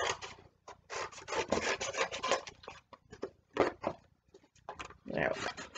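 Cardboard edges being trimmed, with bursts of close rasping, scraping cuts in irregular strokes separated by short pauses, and a voice talking at times.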